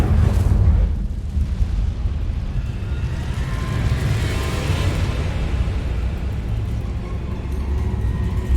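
A fire spell cast in Hogwarts Legacy erupts in a loud, deep roaring burst that settles into a sustained rumbling, crackling blaze lasting several seconds.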